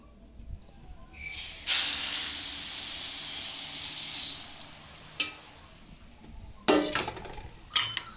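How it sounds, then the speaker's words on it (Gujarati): Puffed rice poured into a pan with turmeric over low heat: a loud, steady hissing sizzle lasting a few seconds, followed by scattered sharp clinks of a utensil against the pan. "હવે ગેસ આપણું ધીમું કરી દઈશું અને મમરા ઉમેરી દઈશું"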